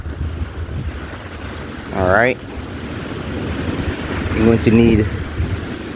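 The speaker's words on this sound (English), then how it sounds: "it's very windy today." Steady gusting wind roars and buffets the microphone outdoors, with someone talking briefly over it.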